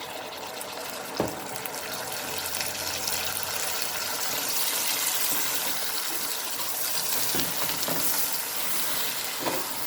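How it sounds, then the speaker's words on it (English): Hot water pours into a simmering Cape Malay carrot, pea and potato stew, giving a steady, fairly loud sizzle and bubbling hiss throughout, with a few sharp clinks of a cup or utensil. "I'm going to add in another cup of hot water in here."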